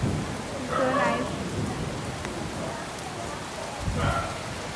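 Heavy rain pours down in a Bangalore village after dark, a steady broadband hiss of drops hitting surfaces throughout, while a person talks briefly at the start and again near the end.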